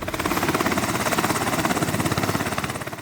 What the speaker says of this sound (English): pilots with the helicopter Sea Combat Squadron 2 take off and land again and again, practicing medical rescues